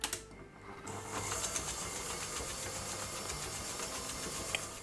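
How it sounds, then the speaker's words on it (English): An electric hand mixer beats butter and brown sugar until creamy, a steady close whirring drone with a faint rattle of beaters in the bowl that runs without pause after a brief quiet start. "Now using a hand mixer or a stand mixer, we're going to beat this through until it's nice and creamy"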